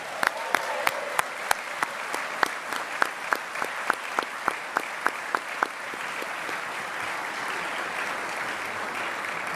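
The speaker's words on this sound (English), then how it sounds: "Let's give them a big round of applause, please." Applause from an audience at a Defense Department employer support awards ceremony, a steady dense wash of clapping with a few sharp louder claps standing out early on, continuing for several seconds without fading.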